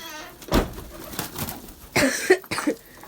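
Domestic pigeons being released give brief soft coos amid a few sharp bursts of wing flutter, fairly near, with a faint voice in the background.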